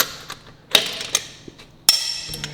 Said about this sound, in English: I'm tightening them with the torque wrench